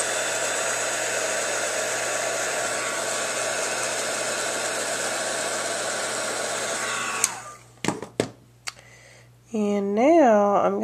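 A heat tool warms wax for a wax seal, blowing with a steady loud whoosh for about seven seconds before it cuts off, followed by a few clicks and then a person speaking.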